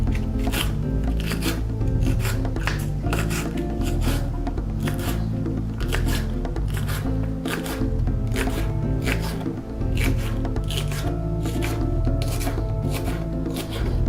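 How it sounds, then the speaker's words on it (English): Hot peppers being sliced by hand with a knife for pickling, a close, loud run of rapid rhythmic cutting strokes continuing steadily without pause. "And I'm just gonna slice it right down."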